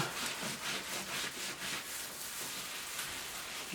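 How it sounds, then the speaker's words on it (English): Wiping excess stain off laser-cut wood with a gloved hand, a steady soft rubbing and swishing that repeats in quick strokes, close and alone, no voices. "wipe it off, get the excess off."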